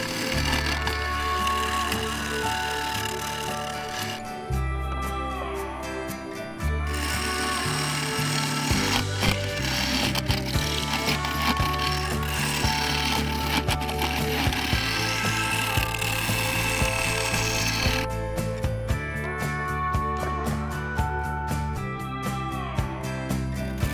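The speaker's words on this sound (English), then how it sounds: "I used the carbide to cut away the maple and sapele" A carbide tool cuts maple and sapele on a wood lathe, giving a loud, continuous scraping and rumbling whine that shifts in pitch and intensity as the cut changes, with short breaks in the noise.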